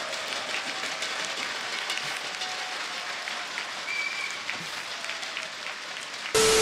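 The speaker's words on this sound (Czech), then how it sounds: "Zatleskejte si." Applause from a live audience at an esports tournament broadcast, a sustained dense wash of clapping that holds steady throughout, with a brief sharp burst right at the end.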